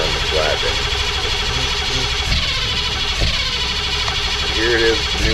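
A 1982 C30 flatbed truck engine with new mufflers idles, a steady loud low rumble with a continuous throb, while people talk over it.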